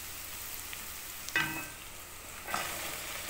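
Fava beans fry in a pan with salt, giving a steady hissing sizzle that surges briefly twice as the beans are stirred or added.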